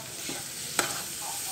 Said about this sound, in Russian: Ну вот, делаю зажарочку.